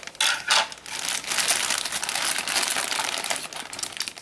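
Plastic packaging for a My Hero Academia Amazing Heroes Lemillion figure crinkles and crackles in close, bursty handling, a few sharp rustles at the start, then steady crumpling throughout with no talk.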